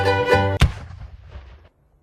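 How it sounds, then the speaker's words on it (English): A single sharp gunshot-like bang cuts through a brief tonal sound, followed by a decaying rumble that fades out within about a second. "Smoke and gunfire."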